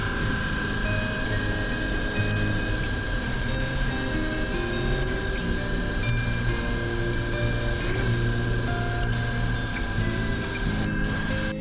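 Steady close hiss of a spray can laying a yellow base coat onto a scrap-wood crankbait lure, running continuously with a few faint clicks and no talk.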